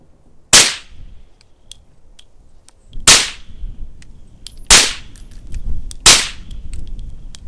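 Four sharp shots from a suppressed Ruger-57 pistol at irregular intervals, each a crisp crack with a short tail, with faint metallic clinks between.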